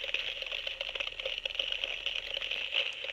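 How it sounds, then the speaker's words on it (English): A Hasbro Ghostbusters Neutrona Wand replica in stasis mode gives a steady electronic crackling hiss with faint bubbling pops, like ice fizzing and cracking, heard close and continuous without any talking. "Sounds like crackling ice."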